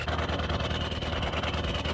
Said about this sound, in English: He planned to let the engine run for a while.